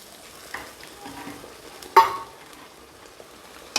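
Potatoes dropping into a pan of frying chicken curry give a sharp splattering burst of sizzle in the middle, set against a quieter continuous frying hiss and a few light scrapes and taps.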